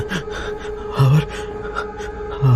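Rapid, heavy, gasping breaths in quick succession from someone sitting on a metro train, over a steady low background hum.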